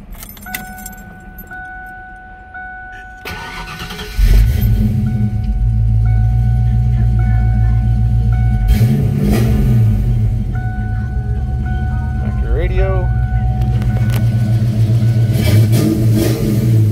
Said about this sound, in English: Let's get in here and start it.